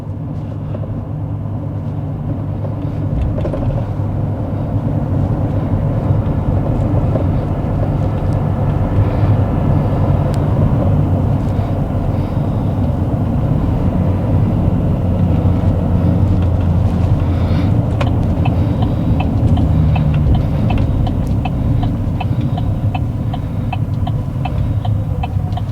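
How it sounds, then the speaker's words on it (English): Diesel truck engine driving down the road, a steady low throbbing drone with road and wind noise, continuous and fairly loud throughout with no talking. "diesels are very quiet now compared to the older diesels"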